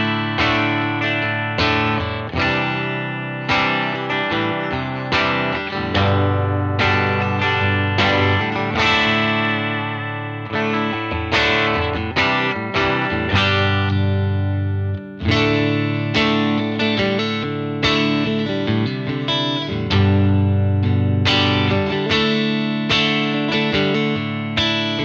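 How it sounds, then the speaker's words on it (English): A Strat on its bridge pickup is played through a JHS Fumble distortion pedal. It produces a continuous run of loud, driven chords and riffs with a gritty, saturated tone that lasts for about twenty-five seconds, with no talking. "Here is the bridge pickup of the Strat."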